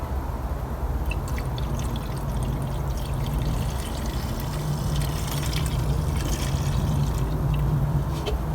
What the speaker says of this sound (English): Gonna add our 50-to-1 fuel.